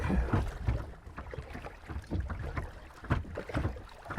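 Rhythmic canoe paddle strokes splashing through choppy river water, with wind buffeting the microphone throughout.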